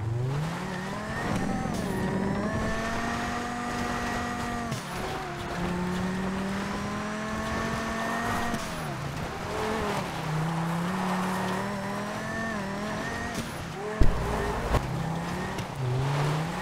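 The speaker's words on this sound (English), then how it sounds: "It's the 1998 Toyota Supra MK4." A 1998 Toyota Supra MK4 in GTA V drives with a sustained engine drone that rises and falls through gear changes, loud and continuous, with a brief sharp knock near the end.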